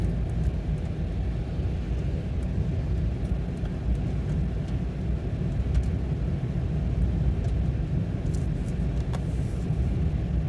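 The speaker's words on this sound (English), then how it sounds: "Just gonna let the car turn gradually here." Car driving and slowly turning on a snowy road near Big Bear Lake, a continuous low engine and tyre rumble heard from inside the cabin, steady throughout with no speech.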